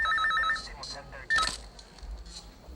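An electronic telephone trills in a quick ringing burst near the start of a dubbed action film scene, followed by muffled clicks and shuffling under voices.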